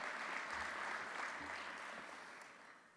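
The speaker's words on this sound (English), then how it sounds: "A little round of applause." A banquet audience at a national leadership awards event gives a soft, distant round of clapping that holds steady, then gradually fades toward the end.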